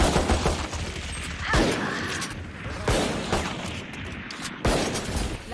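Rapid bursts of gunfire ring out while running past in the shooter game Valorant, loud, repeated volleys in quick succession with sharp onsets, close and dominating the scene.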